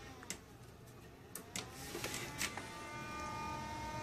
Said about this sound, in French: Ventilateur extrêmement bruyant.